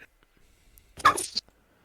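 A single sharp human sneeze bursts out close by in a quiet room during a tabletop game, brief and loud, with faint breaths around it.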